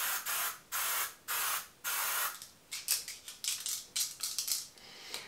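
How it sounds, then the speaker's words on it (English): Several short hissing bursts of Kate Somerville SPF 50 sunscreen spray misting onto a face, close and evenly spaced at first, then quicker, choppier pumps in a rapid series. "I will just spray my face a little bit with this Kate Somerville"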